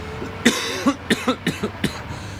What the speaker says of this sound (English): I've been coughing for 20 years